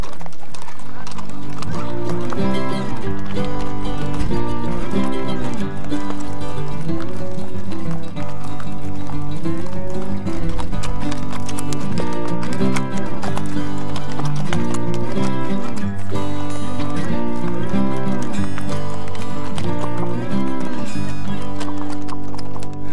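Horses' hooves clip-clop in a steady walking rhythm near Saqsaywaman in Cusco, Peru, loud and continuous with music playing over them.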